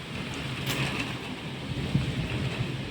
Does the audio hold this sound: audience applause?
no